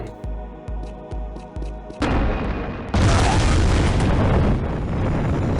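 Redeemer-like rocket weapon in Unreal Tournament 99: a few rhythmic low thumps, then a sudden loud blast at two seconds and a bigger roaring explosion that swells and sustains to the end, with no voices.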